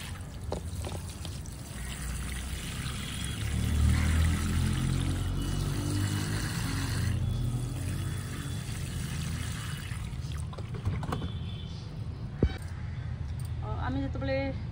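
Water poured onto plants in hanging baskets, such as jade plant, money plant and spider plant, makes a steady splashing trickle with a low rushing base. A voice speaks briefly over it.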